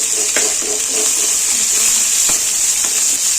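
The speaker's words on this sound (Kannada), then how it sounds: "ಈಗ ಸೊಪ್ಪು, ಪುದೀನ ಸೊಪ್ಪು, ಕರಿಬೇವು ಸೊಪ್ಪು ಮತ್ತು ಈರುಳ್ಳಿ, ಹಸಿಮೆಣಸಿನ್ಕಾಯಿ ಹಾಕೊಂಡು ಸ್ವಲ್ಪ ಫ್ರೈ ಮಾಡ್ಕೊಳ್ಳೋಣ." Onion, green chilli, mint and curry leaves sizzling in a hot pan, a steady loud fry with occasional stirring clicks and scrapes, close up.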